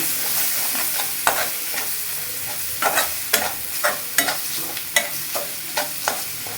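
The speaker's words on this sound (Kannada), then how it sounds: "ಚೆನ್ನಾಗಿ ಫ್ರೈ ಮಾಡಬೇಕು. ಎಣ್ಣೆಲ್ಲ ಮೇಲೆ ಬರಬೇಕು." Masala with cumin powder fries in oil for tomato rice, a steady sizzle punctuated by regular sharp scrapes of stirring, close and fairly loud with no voices.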